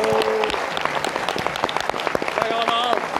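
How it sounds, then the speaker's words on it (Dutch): Loud, dense applause from a cinema audience at Kinepolis Leuven for the F.C. De Kampioenen cast, steady throughout with voices murmuring beneath the clapping. "En geef deze cast nog een daverend applaus."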